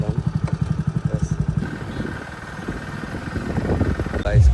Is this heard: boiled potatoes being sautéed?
no